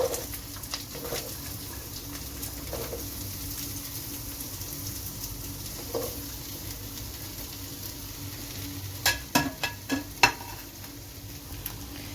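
Cut green chillies fry in hot oil with a soft, steady sizzle and light pattering, while a few sharp stirring clicks stand out near the end; nobody speaks.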